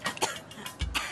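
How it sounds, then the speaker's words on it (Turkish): A smoker coughs in a few harsh, close bursts, the loudest and deepest near the end, with no talking. "Sigara içmeye devam ettiğiniz sürece öksürüğünüzü hiçbir şey geçiremez."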